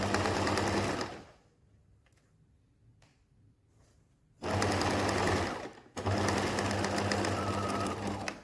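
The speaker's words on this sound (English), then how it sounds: "So we're going to sew on the edge of the binding all the way along." A sewing machine stitches binding onto a quilted waistcoat in close, steady runs of rapid motor hum and needle clatter, stopping for a few seconds before two more bursts.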